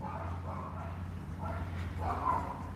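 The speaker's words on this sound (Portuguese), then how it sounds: "É impressionante como esse cachorrinho ele só late quando eu faço live." A neighbor's small dog barks in short yapping bursts, heard at a moderate distance over a steady low background hum, with a sharper, louder bark near the end.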